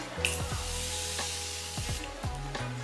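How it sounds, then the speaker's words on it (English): A couple of quick misty hisses of makeup setting spray onto a face over steady background music. "So taking this, I'm just gonna do a quick spray."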